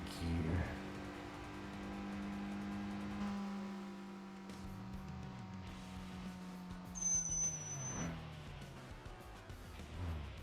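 Car engine in the TXR 2025 racing video game revving steadily in third gear, a sustained droning hum that holds then eases off, with a brief high whine near the end.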